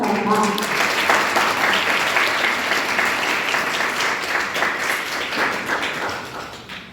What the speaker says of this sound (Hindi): निवेदन करती हूँ तालियों से करें आप सभी उनका सम्मान